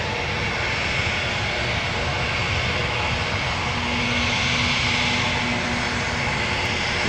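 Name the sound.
Piaggio P.180 Avanti turboprop aircraft engine at runway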